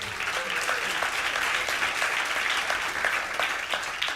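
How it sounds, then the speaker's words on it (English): Audience applause at a church talk, steady, dense clapping from a crowd that holds at an even level throughout, with no speech over it. "thank you for the applause"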